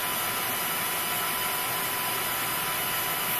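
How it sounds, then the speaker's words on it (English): A power drill bores a hole into a plastic part for a homemade aquarium algae sterilizer, giving one steady, unbroken whirring drone at even loudness throughout. "I'm gonna drill a hole in here like that,"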